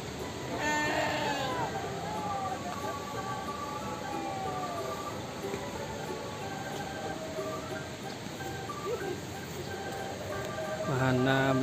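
Sheep bleat in a farm pen at Cimory Riverside in Puncak, several calls rising above a busy crowd murmur, with another bleat near the end.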